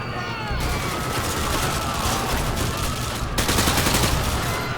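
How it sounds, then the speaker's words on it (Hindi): Dense, loud bursts of gunfire from shotguns or grenade launchers fill the clip, layered and continuous like a fusillade in the Call of Duty Modern Warfare 2 mission No Russian. "शॉटगन चला रहा है कि ग्रेनेड लॉन्चर चला रहा है"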